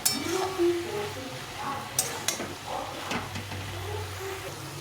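A spoon stirs vegetarian cabbage curry with tomato and a little sugar in a pan, giving soft scraping and a few sharp metallic clinks against the rim, close by, with faint background murmur.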